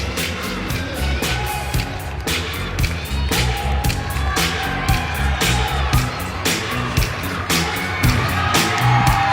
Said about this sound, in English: What a way to finish, particularly with such a great crowd on a Monday night in Champaign